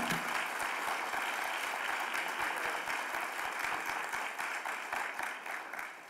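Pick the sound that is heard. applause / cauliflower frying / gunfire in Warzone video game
applause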